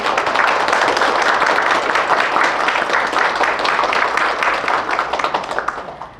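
A concert-hall audience applauds a baritone and a soprano after their two songs at a Korean literary award ceremony, loud, dense clapping from many hands that holds steady, then thins and fades at the end.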